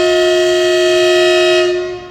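A train horn blares loud and close in one steady, sustained blast at a railway station where the Rangiya–Silchar passenger train is crossing, then tails off at the end.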